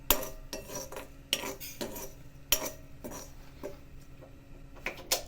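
Curry leaves stirred and roasted in a pan for mukhwas, a spoon clinking and scraping against the metal in irregular strokes, some sharper knocks among softer rattles, close up and with nobody speaking.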